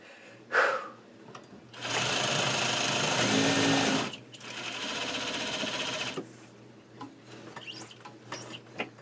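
An industrial sewing machine stitching at a lengthened stitch: a close single knock, then two sustained runs of fast, even mechanical whirring and clatter separated by a brief pause, followed by quieter intermittent clicks and handling noises.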